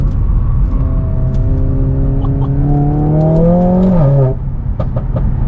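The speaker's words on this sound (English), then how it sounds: "It just builds the rev so quick, it can't shift quick enough" Stage 2 Mercedes-AMG A45S at roughly 500 bhp revving hard under acceleration, its engine note climbing steadily and loudly for about four seconds before dropping sharply at a shift, then settling into a lower drone, close and dominant.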